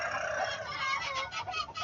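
Super hybrid roosters cluck and chatter together at a village poultry farm, a close, busy chorus of overlapping calls with no talk.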